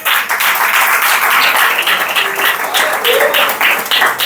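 A church congregation at a family service claps in a dense, sustained round of applause. It is loud and close, with a few voices mixed into the clapping.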